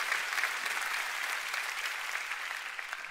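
A church congregation claps for the Lord, a dense and even roar of applause that holds steady from start to finish with no one speaking over it.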